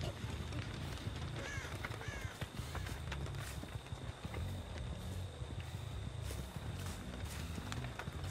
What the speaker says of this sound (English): Yeah, I see a bird.